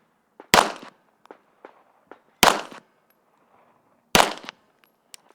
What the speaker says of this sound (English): we just shot a group with my practice ammo